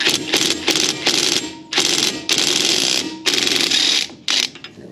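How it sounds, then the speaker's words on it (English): A ratchet fitted with a 12-point 13mm socket turns bolts out on a Jeep Gladiator JL steering knuckle, giving loud, rapid clicking bursts in several close, fast runs with short pauses between them. "You have to use a 12-point, 13mm socket, because if you don't, you could run the risk of actually stripping these."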